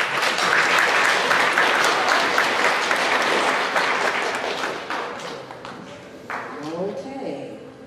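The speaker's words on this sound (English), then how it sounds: "a round of applause for round two" A school audience at a middle school spelling bee applauds after round two, steady dense clapping that fades over the last few seconds as a voice begins speaking.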